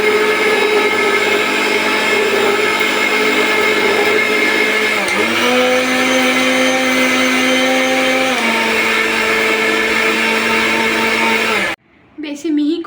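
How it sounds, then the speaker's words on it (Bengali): An electric grinder whirs loudly, grinding cooled roasted nuts into powder for homemade baby cerelac, its motor pitch dipping under load midway before cutting off abruptly near the end. "এগুলো এবার গুঁড়ো করে নেব"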